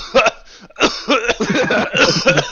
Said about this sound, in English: That last one was a real cough because I made myself cough too much.